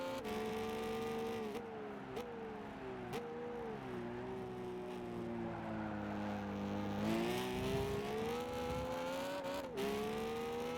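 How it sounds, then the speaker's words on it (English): Car engine in the Gran Turismo 5 racing game accelerating hard out of a turn, a steady buzzing drone climbing in pitch with sharp breaks at gear shifts, loud and alone with no talk. "now I'm gonna step on it because I know I made it around the turn"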